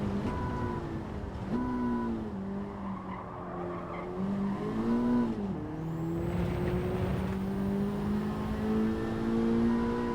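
Race car in Gran Turismo 7 on a licence test run, a steady loud engine drone with shifting pitch and gear changes, tires squealing and skidding through corners, close and continuous without talk.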